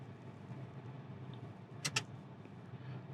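Two quick metallic clicks of a car seatbelt tongue latching into its buckle, close and crisp, standing out briefly against a quiet cabin hum.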